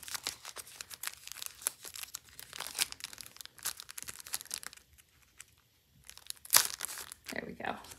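A packet of crib lantern stickers is torn open, giving close bursts of crinkling and rustling plastic that come in clusters, then a short pause and a final louder crackle.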